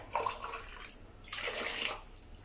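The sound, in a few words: water poured from tins into pot for bean soup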